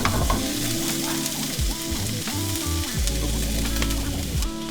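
Pre-chopped vegetables and garlic sautéing in a pan, a loud, close, continuous sizzle with stirring and scraping clatter running throughout, no talking.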